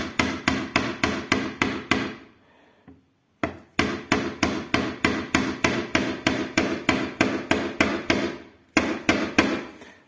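A small hammer taps nails rapidly and steadily in close, bright strikes while fixing glass into a coffee table, pausing briefly twice before resuming the same quick rhythm.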